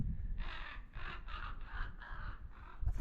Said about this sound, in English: God, that crow's making a lot of noise.